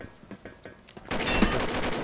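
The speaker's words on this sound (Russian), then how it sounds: "И уничтожает Дэна отличным выстрелом из М4." M4 rifle fire in a competitive team shooter match, a few scattered shots followed by a sustained loud burst of rapid gunfire.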